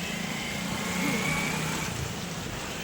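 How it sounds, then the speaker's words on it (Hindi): A vehicle drives through a flooded street in Pilibhit during heavy rain, its engine a steady drone over a broad, constant wash of water and road noise. "वो गाड़ी कितनी तेज ले गो"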